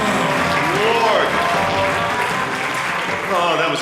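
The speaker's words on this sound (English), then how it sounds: "Everybody give Maggie a very big round of applause." Crowd applause for Maggie at a live variety show, continuous clapping blended with cheering voices and a bit of talk, moderately loud throughout.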